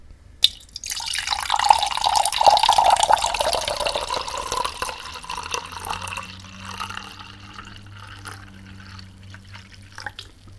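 Liquid is poured steadily from a flimsy recycled-plastic container into a vessel, a close, continuous splashing stream for several seconds that tapers off into quieter trickling and drips.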